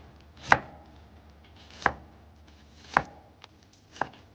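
Knife slicing a Japanese onion thinly on a cutting board, four distinct crisp chops spaced about a second apart, close and clear with no talk.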